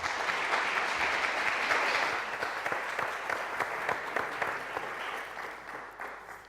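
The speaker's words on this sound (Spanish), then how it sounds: "pedirles un aplauso para nuestros invitados." Audience applause for invited guests at a tribute event in the National Library, a moderate patter of many hands with distinct claps, steady at first and gradually thinning toward the end.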